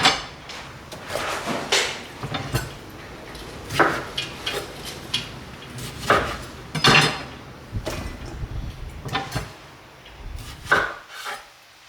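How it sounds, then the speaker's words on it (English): A knife quarters tomatoes for a Cantonese lamb curry, giving a run of irregular thuds and chops on a wooden board, moderately close with quiet rubbing between strokes and no talk. "cut it into 4."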